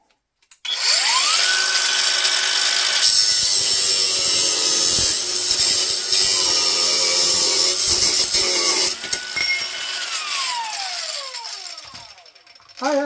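A power tool run on its grinding setting while working on a gas-powered Dodge ride-on toy car, a loud, steady high-pitched whine held for about ten seconds before winding down and stopping.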